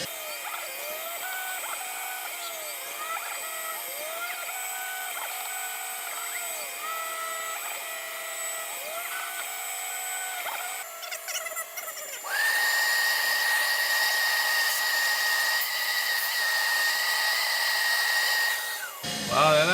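A CNC router spindle whines steadily with repeating rising and falling pitch sweeps as it moves, then shifts to a louder, harsher high whine as the cutter engages the material, ending abruptly.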